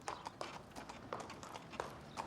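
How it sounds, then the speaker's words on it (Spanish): A horse pulls a cart at a walking pace, its hooves clip-clopping in a steady, uneven rhythm of sharp knocks, fairly close and with no talk over them. "Viajó con un carro tirado por un caballo, igual que lo habría hecho Hewlett en aquella época."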